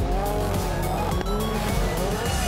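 A rallycross car brakes hard into turn two at the FIA World Rallycross round in Germany, its tires squealing over a loud, strained engine note for the whole stretch, close and without talk.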